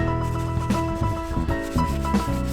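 A detail brush scrubbing a car's interior plastics, with short rubbing strokes and a bristly scraping texture in quick bursts, close and fairly loud.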